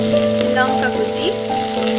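Chopped onion and chilli frying in hot oil for a chana dal with prawns: a steady, close sizzle with light crackle, with a faint tonal hum in the background and no talking.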